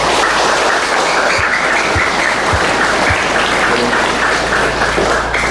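A church congregation applauds the people who accompanied the dormitory children's singing, giving steady, dense clapping that fills the room at full volume from start to finish.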